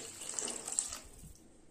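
Water poured into a cup of rice for peas pulao in a home kitchen, a short splashing pour that runs about a second, then tails off into quiet.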